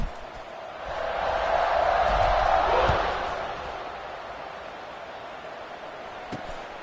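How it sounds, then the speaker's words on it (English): Football stadium crowd cheering at a kickoff at a Florida State game, a broad continuous roar that swells to a peak and then eases into a lower sustained crowd noise. "this crowd now ready to get behind them"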